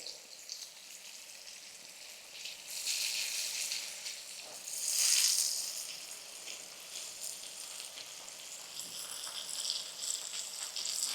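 Cubes of paneer fry in oil over a medium gas flame for a biryani, a soft continuous sizzle that swells and crackles in waves as the pieces are turned, with no talking.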